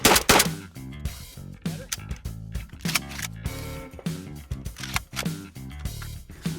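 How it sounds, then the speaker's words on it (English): Rapid-fire shotgun blasts with Winchester birdshot: a quick series of loud, sharp reports spread across several seconds, each one followed by a short echo, with no talking. "5 more rounds, Winchester, rapid fire"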